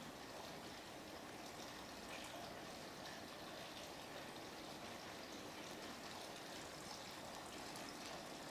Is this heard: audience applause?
no